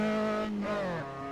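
A small Austin Healey Sprite driven in Assetto Corsa, its engine droning steadily in harmonic tones, pitch easing down through a shift and settling lower, close and continuous with no talk.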